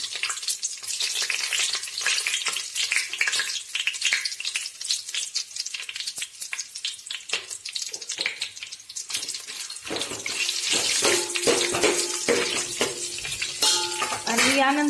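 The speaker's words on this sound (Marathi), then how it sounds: "आता मी बिर्याणी फोडणीला देत आहे आणि हा सुका मसाला सर्व" Dry spice masala hitting hot oil in the tempering for dum mutton biryani, a busy crackling sizzle with scraping stirs throughout, growing louder and fuller toward the end with some sharper clinks near the close.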